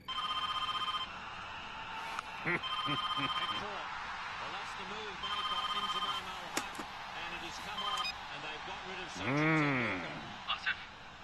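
Telephone ringing over speakerphone after a redial, repeated electronic ring bursts in a steady pattern, moderately loud and close, with people talking between and over the rings.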